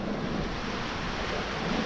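Rough, heavy sea surging around a sailboat in 20 to 22 knots of wind on a crossing from Calvi to Bandol, a dense continuous wash of waves and wind buffeting, loud and close with no talk.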